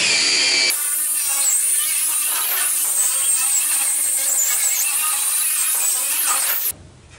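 A power tool grinds a weld clean on the body of a Citroën Traction 11B, one loud continuous high-pitched whine held for several seconds, close up, with abrupt start and stop.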